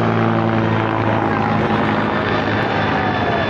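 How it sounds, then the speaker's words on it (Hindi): A helicopter circles over a crowded three-day fair at Giraudpuri, its steady rotor and engine roar loud and continuous throughout, with no voices in the clip. "हेलीकॉप्टर अभी मेला की तरफ राउंड लगा रहे हैं"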